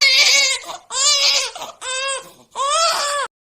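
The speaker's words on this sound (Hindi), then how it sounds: "अरे ये तो मेरी बेटी की रोने की आवाज है।" A baby girl cries loudly and close up in four wailing bursts separated by short breaths, used as a sound effect in a dubbed love story.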